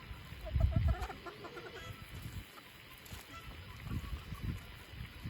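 Chicken clucking in a backyard flock, a few short soft clucks and chirps near the start with rustling and low thumps, fairly faint and close.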